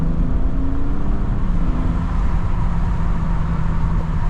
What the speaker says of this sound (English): Hopefully you guys can hear that engine, but yeah, this engine's very loud.